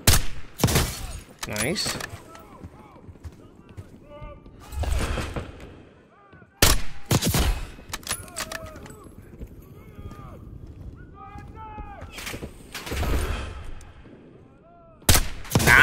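Sharp, loud gunshots ring out in Call of Duty: Black Ops 6, spaced bursts and single cracks scattered across the stretch, with a player talking between them.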